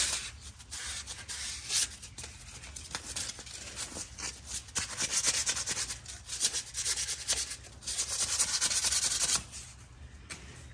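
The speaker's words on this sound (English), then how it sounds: "I got that sandpaper from the back one, so I'm gonna just kind of hit it with this." Sandpaper scrubs a rusty brake part on a Ford Explorer Sport Trac in steady back-and-forth strokes, close and fairly loud, with short pauses between bursts of rubbing.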